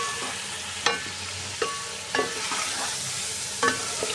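Chicken pieces frying and being stirred in a pot for chicken pulao, a steady close sizzle broken by a few sharp scrapes of the spoon, with no talking.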